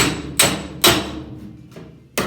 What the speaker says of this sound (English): That hammer on dolly right there.